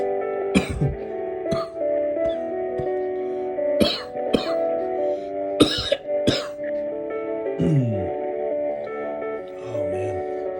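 A man's dry cough and throat clearing, several short harsh bursts spaced irregularly over a steady background hum, close to the microphone.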